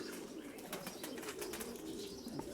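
Pigeons coo softly and repeatedly nearby, a low burbling murmur against a faint background.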